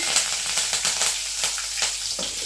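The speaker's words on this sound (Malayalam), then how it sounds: "കടുക് പൊട്ടി എനിക്ക് കറിവേപ്പില ഇടാണ്" Mustard seeds and curry leaves crackle and sizzle in hot oil for a quick dry mango pickle tempering, a close, busy spatter of sharp pops over a steady frying hiss.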